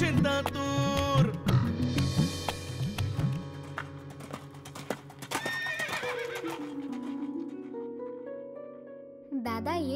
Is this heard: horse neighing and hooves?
yes